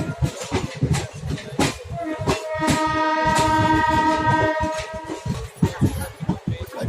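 Chetak Express passenger train pulling into Ajmer Junction station, with a sustained horn-like tonal blare through the middle over rumbling wheels and clattering cars, loud and close throughout.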